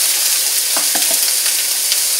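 Peppers, onions and garlic hiss loudly in extra virgin olive oil in a cast iron skillet, a dense close-up sizzle with a few sharp pops and crackles.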